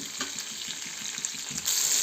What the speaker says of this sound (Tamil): கடாயில் எண்ணெய் ஊற்றி கொஞ்சம் வெந்தயம், வெள்ளை பூண்டு ஒரு 10 பல், சின்ன வெங்காயம் ஒரு 15 போட்டுக்கணும்.